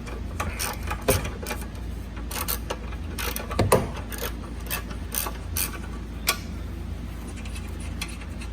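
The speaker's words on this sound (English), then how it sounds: "then you take your 13mm deep socket to remove them" A ratchet with a 13mm deep socket works bolts loose on a Fiat 500, producing irregular close clicking and ticking strokes with a few louder clanks, repeating throughout.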